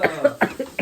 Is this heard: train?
no